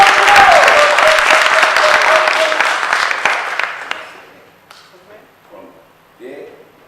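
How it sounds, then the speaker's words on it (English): Loud audience applause fills the first few seconds, then fades away as a voice begins speaking. "sister a round of applause."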